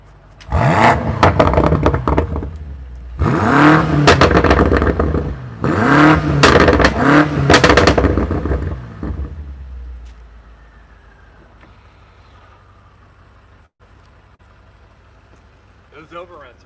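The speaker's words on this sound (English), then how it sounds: "the pops and bangs of the unburnt fuel in the exhaust chambers" A 2021 BMW M5 Competition revs hard three times in loud rising bursts with overrun pops and bangs from the exhaust, then settles to a quiet idle.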